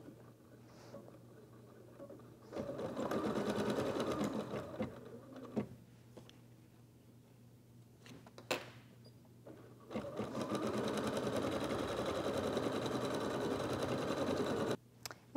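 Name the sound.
embroidery machine sewing final stitch sequence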